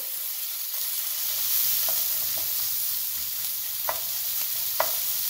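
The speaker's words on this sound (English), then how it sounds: "we're going to let that vegetable cook through a few minutes" Vegetables for fried rice sizzle steadily in a hot pan, a continuous hiss with a few sharp utensil scrapes and taps as they are stirred.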